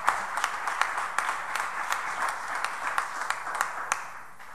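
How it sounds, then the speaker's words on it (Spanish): Applause from a church congregation during a prayer school service, offered to the Lord: steady crowd clapping with some sharp individual claps standing out, continuous throughout. "Le daré un aplauso al Señor."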